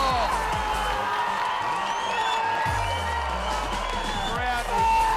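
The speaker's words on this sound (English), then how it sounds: "Crowd is going nuts from underneath us." Indian fans cheering at a hockey match between Australia and India, a loud roaring crowd with whoops and horns under an excited commentator talking over it.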